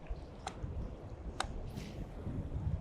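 Wind gusting across the microphone while fishing with a cast line out, a faint low rumble throughout, broken by two short sharp clicks.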